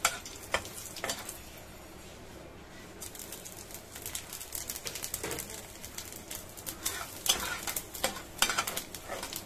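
Dal is stirred in a pot on the stove, with soft, scattered scraping strokes over a quiet background hiss, growing a little busier toward the end.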